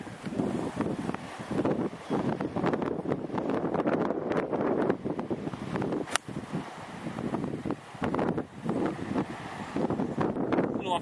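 Steady gusty wind buffets the microphone on a Caribbean golf course at a resort in Anguilla, a continuous roar that swells and dips throughout, with no clear talk standing out.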